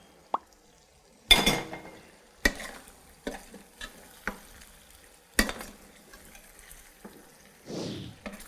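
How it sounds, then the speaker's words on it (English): Pasta being stirred and tossed into sauce in a pan, with scattered scraping and clattering stirs, soft plops and a light sizzle, fairly close, no talk. "Just combining pasta with the sauce"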